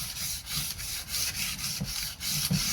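Coarse sandpaper rubbed up and down on a bar clamp, producing a quick series of rhythmic scratchy strokes, about nine back-and-forth passes in under three seconds, close and moderately loud.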